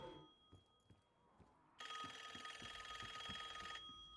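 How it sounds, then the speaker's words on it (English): Cursed relic phone ringing in Call of Duty: Black Ops, a loud, harsh, continuous electronic ring bursting in after quieter game sounds and footsteps, then cutting off abruptly. "Incredibly loud phone."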